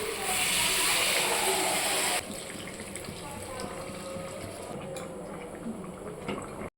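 Water poured onto sizzling spice paste in a pan for a green jackfruit and mutton fat dish bursts into a loud hiss for about two seconds, then settles into a quieter steady bubbling simmer.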